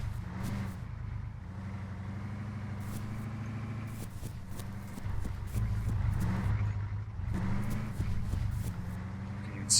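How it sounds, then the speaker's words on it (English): A truck engine in the video game ArmA 3 rumbles steadily at a moderate distance, with occasional clicks and bumps layered over the continuous low drone. "Alright, we hear the truck."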